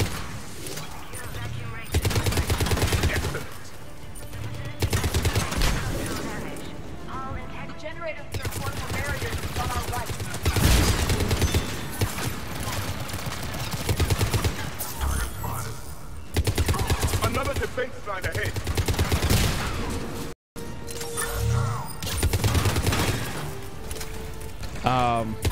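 Sustained turret gunfire and rapid automatic bursts from the Mass Effect 3 Legendary Edition video game ring out loudly and almost nonstop, with scattered impacts and booms over busy game sound, and a voice talking at times beneath the barrage.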